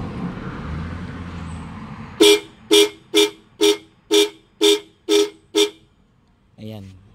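Eight short, evenly spaced beeps from a weak, thin, buzzy horn on a Honda XR150L motorcycle, the horn not vibrating properly, preceded by background noise and followed by a brief voice.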